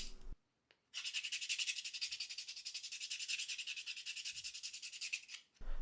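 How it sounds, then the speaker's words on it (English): Sandpaper rubbed back and forth over a wooden crankbait body, a steady run of close, rhythmic scratchy strokes that stops briefly near the start and continues for several seconds with no talking. "I clean it up with a rasp, and then I go over it with some sandpaper"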